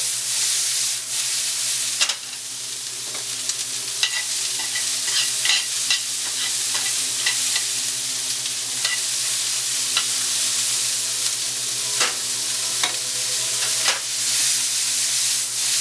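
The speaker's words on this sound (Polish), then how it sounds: "wszystko ładnie obsmażamy, żeby nam się lekko to skarmelizowało" Celery, carrot and onion sautéing in a pan to caramelize for a veal osso buco, a loud steady sizzle with repeated scraping stirs and utensil clinks over the top.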